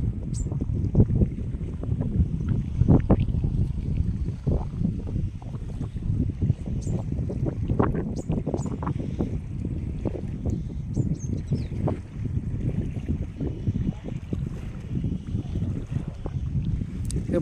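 Boats sit on the water at Antarvedi, where the sea meets the Godavari, with a continuous rumble of wind and water, thudding knocks and faint higher clinks scattered throughout, fairly close and steady.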